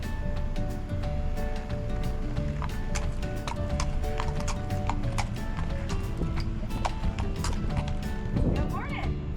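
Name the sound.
horse hooves clip-clopping through a McDonald's drive-thru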